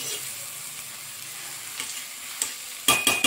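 Leafy greens curry is stirred in a sizzling pan, with a soft frying hiss building to several sharp scraping strokes of the spoon near the end, close and clear.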